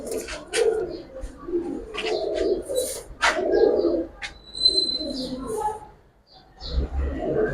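Giribaz pigeons coo in a close, repeated, throaty murmur, with a few sharp chirps mixed in. Someone talks over the birds throughout.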